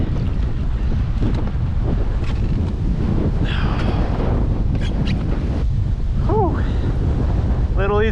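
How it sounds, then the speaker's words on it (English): Strong wind buffets the microphone while kayaking on open water during a solo duck hunt in high winds, a constant loud roar with water sloshing and faint splashes underneath. "It's going to be kind of a pain to get back with this wind."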